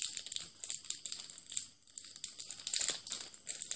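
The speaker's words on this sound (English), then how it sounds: "I still like the sound of the crinkling package" A plastic package from a jewelry kit crinkles close up, with quiet, busy rustling and crackles in irregular bursts and brief pauses, no talk.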